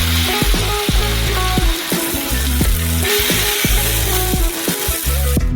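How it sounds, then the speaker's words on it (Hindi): Ham sizzles on an oiled electric grill set to maximum temperature, a steady, loud frying hiss running continuously with sharp crackles recurring throughout. "हैम को फ्राई करने भेजते हैं।"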